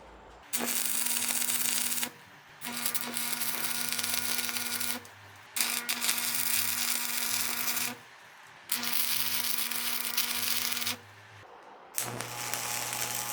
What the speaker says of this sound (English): I prettied it up with a flap disc.